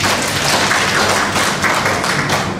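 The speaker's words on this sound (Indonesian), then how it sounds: "Tepuk tangan dulu semuanya." Audience at a government evaluation meeting on stopping open defecation breaks into loud, dense applause, many hands clapping together steadily and close for nearly three seconds with no speech.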